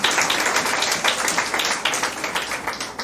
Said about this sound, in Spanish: De un aplauso